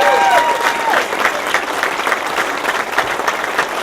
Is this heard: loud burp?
no